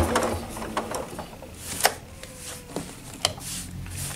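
A sewing machine quilting a table runner as a ruler is guided along, giving a soft continuous mechanical whir with a few sharper clicks and ticks, close and fairly quiet with no talk.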